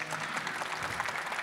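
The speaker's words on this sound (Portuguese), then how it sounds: "vamos saudar com uma salva de palmas" A church congregation claps for a birthday during a Catholic prayer service, producing dense, even, fairly quiet applause that runs throughout.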